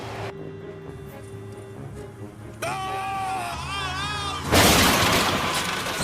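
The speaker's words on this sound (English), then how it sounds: "stop crashing your car, dude" A car crash from a TV spy show, heard as a rising engine and screeching whine that ends in a loud, noisy crunching impact, up close and dramatic.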